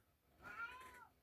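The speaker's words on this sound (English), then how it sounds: "that's Christian you hear in the background. He's a very talkative kitty" A talkative pet cat meows once in the background, a short, faint, drawn-out cry with no other sounds around it.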